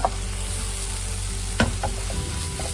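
Masala sizzles steadily in a pan over a medium flame while being stirred, a continuous close frying hiss marked by a few soft scrapes and one sharper knock of the spoon.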